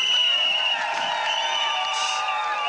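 Crowd at a public ceremony cheering and applauding, a steady dense roar with whoops and voices running through the short stretch.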